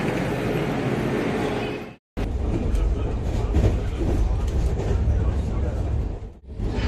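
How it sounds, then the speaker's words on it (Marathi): Hyderabad Express standing at platform 8 of Mumbai's Chhatrapati Shivaji Maharaj Terminus, with a steady loud rumble and station din that briefly cuts out twice. "8 नंबर इकडे गाडी लागलेली आहे."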